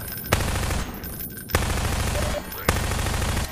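Rapid automatic gunfire from a weapon in the video game Half-Life 2, loud and close, comes in three sustained bursts separated by short breaks.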